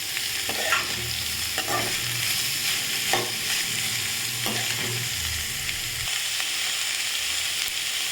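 Ginger and garlic sauté in a pan for a potato curry, frying with a steady sizzle while a spoon scrapes and stirs in irregular strokes throughout.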